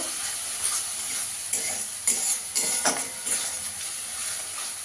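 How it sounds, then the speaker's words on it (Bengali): Cumin powder and Kashmiri chilli powder are fried and stirred in a pan for a bele fish curry. A loud, steady hiss of sizzling oil is broken by several sharp scraping strokes. "মশলাটা ভালো করে কষিয়ে নেব"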